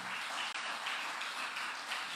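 A church congregation at a Sunday service applauds, a steady, even wash of many hands clapping at moderate distance with no voices on top.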